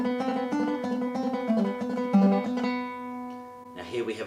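A guitar plays a phrase of Asturias, with quick plucked repeated notes over a sustained bass drone, ringing out before a brief strummed flourish at the close.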